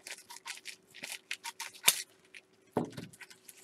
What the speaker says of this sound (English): Try not to cut yourself with scissors.